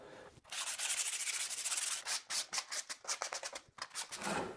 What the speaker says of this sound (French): j'effectue un léger égrainage avec un grain de 240